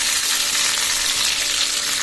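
Chopped onions and tomatoes fry in hot oil in a wok, giving a loud, steady, dense sizzle throughout, with no voices.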